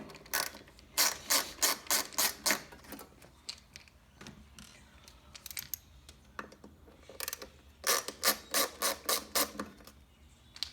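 Bursts of rapid ratcheting clicks from a small Phillips screwdriver turning screws on a Yaesu FTDX-10 radio, in two main runs separated by quieter handling noises.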